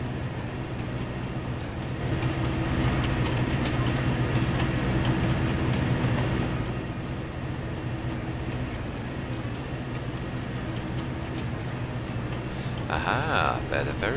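A train rolls along the tracks in the Farming Simulator 22 video game, a steady rumble with rhythmic clicking, heard under a voice.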